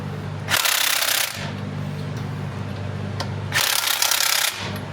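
Lug nuts being run down onto a car wheel, likely a Honda Civic, by an impact wrench in two loud bursts of roughly a second each over a steady low engine-like hum.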